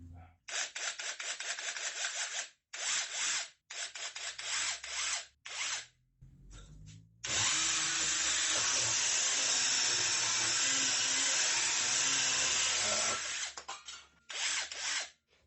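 A 5-in-1 cordless drill fitted with a saber saw head cuts through very dry wood in a series of choppy start-stop bursts, then one long continuous rasping cut before more short bursts.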